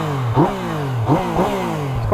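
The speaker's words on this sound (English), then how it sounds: "It's got quite a nice induction noise from that nice triple engine." A 2019 Yamaha MT-09 SP triple-cylinder motorcycle engine revs in rising bursts, its throaty intake note climbing and falling several times close by.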